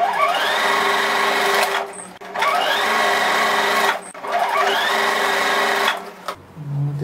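Domestic sewing machine stitching two short seams along the sides of a fabric baby comforter toy, loud and close, running in three steady bursts of about two seconds each with short pauses between them.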